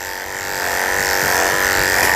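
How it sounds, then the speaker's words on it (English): Electric clippers buzz steadily while shaving down a Pekingese dog, a loud close motor hum with a rising whine and faint shifts as the blade moves through the coat. "so the clipper doesn't get caught in folds of skin"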